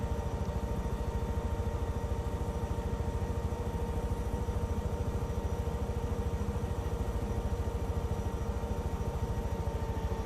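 Helicopter engines starting up in the Take on Helicopters video game give a steady, rapid mechanical pulsing thrum with a constant whine above it, holding an even loudness throughout with no voices.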